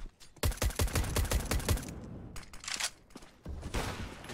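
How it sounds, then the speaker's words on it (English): Rapid gunshots echo through an esports match of a competitive first-person shooter, a dense string of sharp cracks in the first two seconds followed by scattered bursts and more fire at the end. "As more shots ring through."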